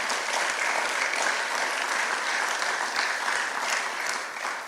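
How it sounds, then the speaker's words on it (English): A dense, steady round of applause from a crowd at a scholarship breakfast, loud and continuous with no gaps before easing slightly at the end. "A huge round of applause for everything."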